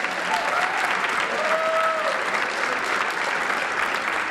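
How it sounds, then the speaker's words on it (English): An audience applauds at a USAF jazz ensemble concert, steady dense clapping that fills the whole stretch, with faint shouts or whistles above it. "Get some applause, that's good."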